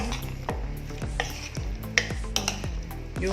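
A salad being tossed with herbs and five spice: a series of soft, rhythmic stirring swishes and scrapes in a bowl, with light clinks from a utensil, close and fairly quiet.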